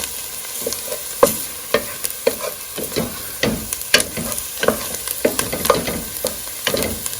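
Rice and thyme toast in a hot pot for pilaf, a soft sizzle running underneath as a spoon scrapes and stirs in repeated sharp strokes, close and clear with no talking.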